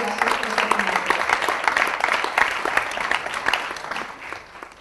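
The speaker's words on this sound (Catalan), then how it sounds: "Un aplaudiment per a Andreu i Jordi" Audience applauding two guests at a cultural export panel session, steady crisp clapping that fades slightly near the end.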